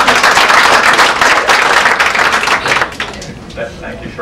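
An audience breaks into loud, close applause at a morning community meeting, with dense clapping that thins and fades toward the end while some voices mingle in.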